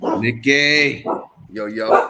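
A pet dog barks in short, sharp yaps close by, mixed with a person calling out over it.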